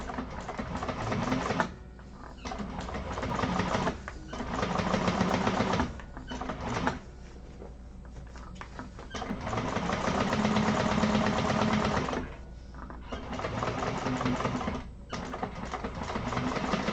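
A sewing machine stitches handbag lining panels in runs of rapid, steady mechanical chatter, pausing briefly between seams before starting again, close and even in level.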